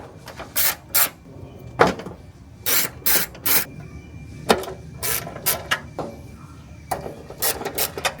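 Strut tower bolts being undone on a Daihatsu Mira: close, sharp metallic ratchet clicks arrive in short irregular bursts against a quiet background, with no talking.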